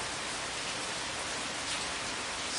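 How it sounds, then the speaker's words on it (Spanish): Steady rain falls in a soft, even hiss that stays constant for a few seconds, fairly faint, with no voices. "Si la lluvia nos deja"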